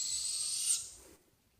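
Owl hooting in the woods at night, a clear, fairly loud call that fades after about a second into quiet.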